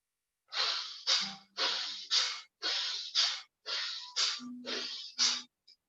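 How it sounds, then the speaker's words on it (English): Bhastrika pranayama bellows breathing in a yoga workshop: forceful, rhythmic nasal exhalations and inhalations, about ten loud close breaths in steady pairs, alone without talk. "कुछ breathing practice ऐसे जहां पर हमारी लंग्स ब्रीथिंग एक्टिवेट होती है"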